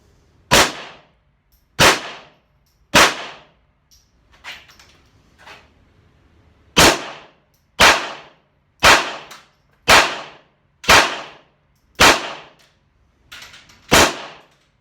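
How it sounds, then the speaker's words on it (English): A Ruger LCP II .22LR pistol fires 40-grain round-nose Mini-Mag rounds: about ten loud, sharp cracks in an uneven rhythm, with a pause partway through holding a few fainter pops. There is no talking. "first shots with the little Ruger LCP2"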